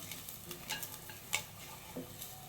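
Bay leaves for methi chicken tikka masala sizzle quietly in a pan, a faint continuous frying hiss broken by soft stirring clicks and scrapes.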